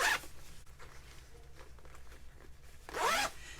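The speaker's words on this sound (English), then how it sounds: "Zipper works great." A zipper on a small handbag is run twice, one quick pull at the start and another longer pull near the end, close and crisp, with quiet handling rustle between.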